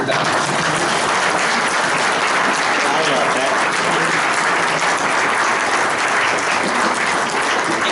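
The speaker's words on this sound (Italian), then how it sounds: "Finiamo così con un applauso a Giovanni" Steady, dense clapping from an audience in a hall, thanking Giovanni at the close of a presentation on dialects and traditions of the eastern Venetian Prealps. It holds at an even level throughout, with a faint murmur of voices mixed in.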